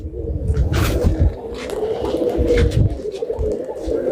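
A male racing pigeon coos repeatedly in soft, throaty low calls close by, a continuous rolling coo with rhythmic pulses, and no talk over it.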